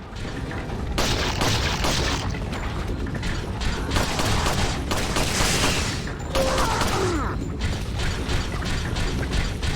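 Shots and mechanical clatter in a Resident Evil 4 fight, with loud repeated bursts over a busy, continuous game soundscape.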